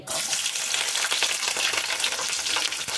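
Green chillies tempering in hot oil give a loud, steady crackling sizzle that fills the whole clip with dense popping and spitting, close and continuous with no voice over it.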